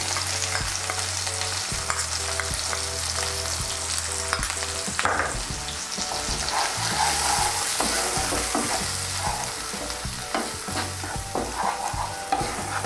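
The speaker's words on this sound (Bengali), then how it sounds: "এই পেস্টটা এখন আমি এর মধ্যে দিয়ে দেব।" Spice paste of chili, cumin and coriander powder sizzles loudly in a pan for cauliflower kofta curry, a dense, continuous frying hiss with spoon scrapes and stirring clicks, and no talk.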